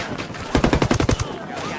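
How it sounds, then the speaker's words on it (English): Automatic gunfire in the tactical shooter Ghost Recon Wildlands: a close, loud burst of about a dozen rapid shots lasting roughly half a second, with no voices over it. "Opening fire at this fuckers."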